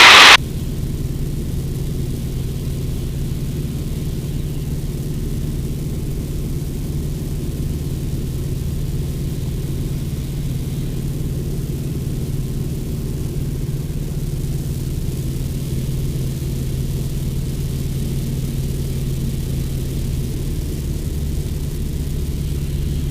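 Inside a Luscombe light aircraft flying over an airport, a steady, loud engine and propeller drone holds unbroken, low and even, with no voices.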